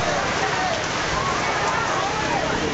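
A sudden rain comes down as a dense, even hiss of drops hitting surfaces, steady and close for the whole short stretch.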